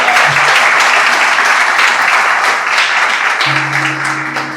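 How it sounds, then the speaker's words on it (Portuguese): A church congregation applauds the word of God during a sermon, loud, dense clapping from a crowd with a faint low tone underneath, sustained for the whole span. "Você pode aplaudir a palavra de Deus?"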